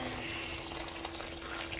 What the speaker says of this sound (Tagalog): Lagyan natin ng tubig. Hot water guys.